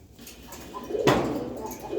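A pigeon gives a soft, short coo amid others kept in a pigeon house for sale, heard close, with faint shuffling and a brief rustle around it.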